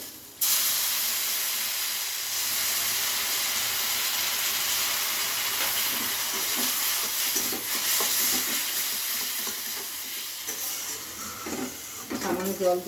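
Water poured into semolina upma cooking in a pan brings a loud, steady sizzle and hiss that continues for many seconds, with stirring scrapes toward the end and someone speaking softly.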